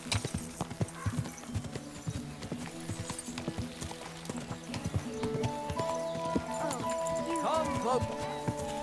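Horse hooves clip-clop steadily in Kingdom Come Deliverance II, a rhythmic walking gait close by, with game music and a voice talking over it.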